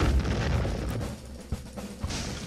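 Cannon fire in the Civil War strategy game The Bluecoats: North vs South: rumbling low booms and a few sharp reports, fairly loud and continuous, with no talk.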